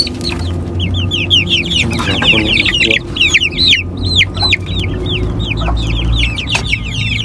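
Chickens cluck busily and continuously, many birds at once, close by on a poultry farm, with a low rumbling background throughout.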